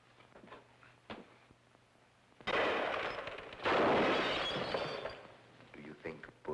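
Gunfire in the 1948 film The Amazing Mr. X: two loud, dense bursts of shots follow one another closely, set between quieter passages with faint voices.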